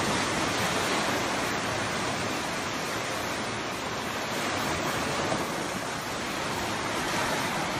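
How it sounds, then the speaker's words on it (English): Rolling ocean waves on a windy early morning facing west, a continuous loud wash of surf and wind noise with no distinct breaks and no voices. "And you see these rolling waves that are like bumpy cakes?"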